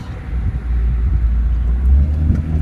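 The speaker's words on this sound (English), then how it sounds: "testing, drive testing the Jeep" A Jeep WJ on a test drive after work on its CCV valves, vacuum lines and air cleaner, heard as a steady, loud low engine and road rumble from inside the cabin, without talk.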